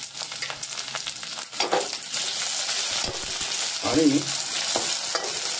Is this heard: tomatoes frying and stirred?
yes